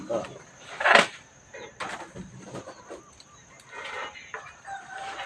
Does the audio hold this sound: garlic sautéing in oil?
no